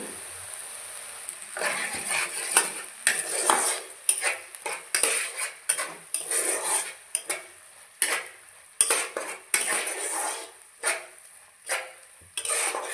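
Tomato and olive chutney frying in a pan, with repeated metallic scrapes and clinks of a spatula stirring against the pan over a light sizzle, in rhythmic bursts with short pauses.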